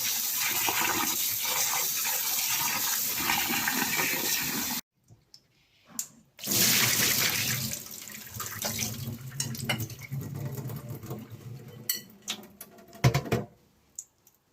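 Running water splashes and pours steadily over mutton liver being washed, broken by a short pause and some clinks and handling sounds as the flow resumes.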